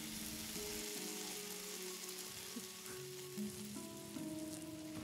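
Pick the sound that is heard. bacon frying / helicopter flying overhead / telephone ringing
bacon frying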